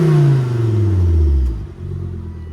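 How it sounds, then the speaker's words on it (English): A Volvo 740 Turbo with an IPD exhaust and 174,000 miles revs up close, its deep engine tone rising to a held peak, then dropping back to a low rumble near the end. "Hear that IPD exhaust?"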